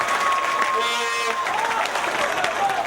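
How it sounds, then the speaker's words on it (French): A crowd at an event in Cameroon claps loudly, with steady applause and a few cheers. A voice speaks over the clapping. "Est-ce qu'on peut applaudir très très fort pour ces gens?"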